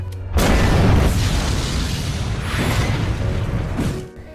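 A loud, sustained blast erupts suddenly as an explosion blows open a palace gate, a deep roaring rumble with crashing debris that holds for several seconds before tapering off.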